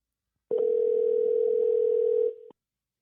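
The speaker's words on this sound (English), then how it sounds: "It's ringing." An outgoing phone call gives a single steady ringback tone lasting about two seconds, clear and moderately quiet, with no voices.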